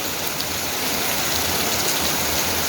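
Steady rain falls continuously on a rainy day, a dense even hiss that stays close and constant throughout, with no voices and no thunder.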